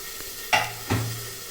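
Two fish, a large jilebi fish fry, cooking in hot oil with a constant low sizzle, broken by two sharp, brief scraping or stirring clatters close together near the middle.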